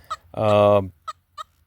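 A Nokta Simplex Lite metal detector sounds off over a relic target in the Sierra foothills: a short chirp, then a sustained, buzzy, duck-like tone of about half a second, followed by two more brief chirps, loud and close.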